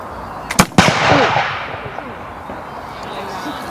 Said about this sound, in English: when he pulls it to full cock, then he'll fire the weapon.